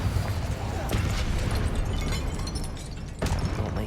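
Spell explosions from Confringo cast in the Hogwarts Legacy video game, a dense roaring burst of blasts and crackling effects with a sharp pop near the end, loud and continuous over game music, with a voice speaking spell names.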